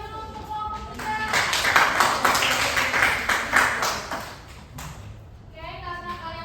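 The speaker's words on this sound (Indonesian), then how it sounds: "Beri tepuk tangan dulu untuk kelompok 3" Classroom applause for a student group after their presentation, a dense burst of many hands clapping that swells and then fades out over several seconds.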